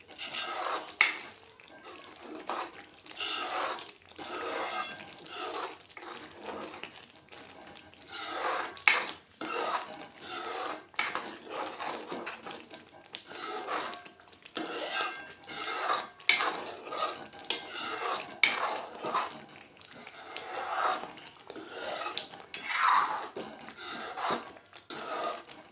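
A spoon scrapes and clatters around a pan as paneer masala is stirred with two spoonfuls of homemade Kolhapuri masala, giving steady, close, repeated metallic scraping with no talking.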